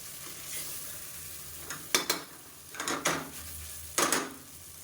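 Capsicum is sautéed in masala in a pan for a paneer gravy, a soft, quiet sizzle under several sharp scraping strokes of a spoon against the pan, with no talk.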